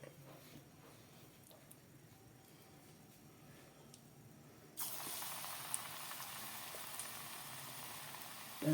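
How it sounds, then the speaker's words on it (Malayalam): A steady hiss sizzles faintly at first, then jumps suddenly louder halfway through as pakoda batter with drumstick leaves fries, oil crackling continuously close by. "ഇനി പക്കുവട ചൂടണം."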